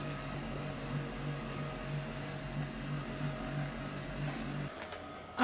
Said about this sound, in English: if you hear that, I did turn the seat vibration on